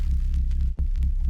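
A deep, throbbing drum-and-bass sub-bass synth tone hums steadily with a soft, crackly vinyl texture on top and a brief dip in the middle.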